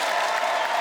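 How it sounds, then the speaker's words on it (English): A studio audience applauds and claps continuously, a dense, even wash of hands from the crowd at a comedy game show taping. "Make her feel loved for about 30 more seconds by clapping loudly"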